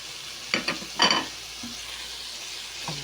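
Tomatoes frying in a pan, a soft constant sizzle broken by two short scraping stirs near the start and a few faint clinks later, with no one speaking.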